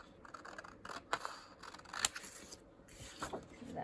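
Scissors snipping through a paper envelope for a junk journal pocket, a run of close, crisp cuts and small paper scrapes at an uneven pace, quiet with no speech.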